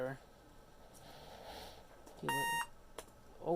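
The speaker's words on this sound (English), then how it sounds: "Jeez, that's an aggressive beep." A laptop beeps harshly during boot: one loud, sustained electronic tone cuts in midway, between quiet spoken remarks and small breathy sounds.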